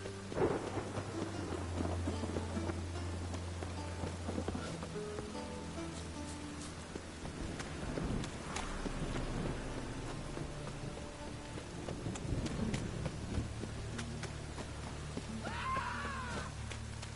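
Steady rain and rolling thunder from a storm in The Witcher 3, a constant loud downpour with deep rumbles swelling and fading throughout, with no talking.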